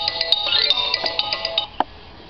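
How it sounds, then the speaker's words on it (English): A mobile phone ringtone plays a bright electronic melody of quick repeated tones for under two seconds, then stops, with a soft click afterward in a quiet room. "my phone's going crazy"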